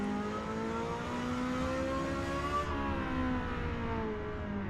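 An unfamiliar car in Forza Motorsport at the Fujimi Kaido course revs its engine in a smooth, rising whine that holds at a steady pitch. The revs then ease off and fall, with no talking over it.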